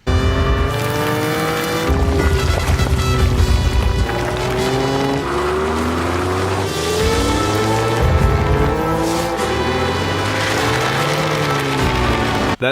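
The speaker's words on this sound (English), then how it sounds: "this is what the promo video sounds like today of what everyone thought was just gonna be a four-banger." Engine of a 2021 Ford Bronco revving hard in bursts, rising and falling pitch sweeps with loud sustained roars and short pauses between pulls, some tire squeal-like bright tones, no talking.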